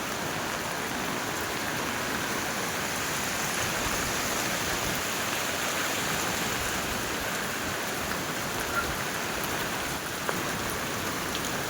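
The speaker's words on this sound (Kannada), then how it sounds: "ಮಳೆ ಬಂದರೆ ಈ ಥರ" Heavy monsoon rain pours steadily in a village, a dense, even hiss of drops on surfaces that stays constant throughout with no voices.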